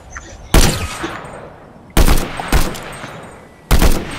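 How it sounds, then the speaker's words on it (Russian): Gunfire in Fortnite, with loud sharp shots cracking out one by one at irregular spacing, four close bursts over a few seconds, each with a short decaying tail. "Стрелял прям по их дому."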